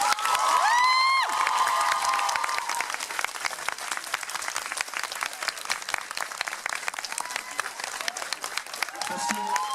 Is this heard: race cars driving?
no